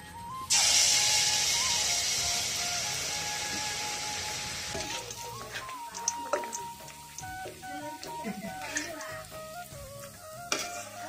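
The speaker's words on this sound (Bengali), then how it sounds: "এখন আমি তেলের ভিতরে পিঠার লেইটাকে দিয়ে দিচ্ছি।" Jackfruit malpua batter drops into hot oil with a sharp burst of loud sizzling that slowly fades into steady bubbling frying, punctuated by light clinks and scraping, with faint talk in the background.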